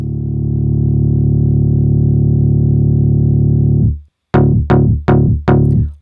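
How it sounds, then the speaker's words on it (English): A loud buzzing synth tone from Ableton's Operator synth with filter drive distortion holds steadily, cuts out, then returns as four short distorted stabs in a quick rhythmic pattern. "This is what distortion or saturation does."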